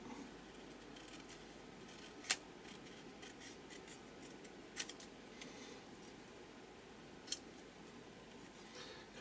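Scissors trim printed paper, making quiet, close snips roughly every two and a half seconds over a soft rustling background, with no talking.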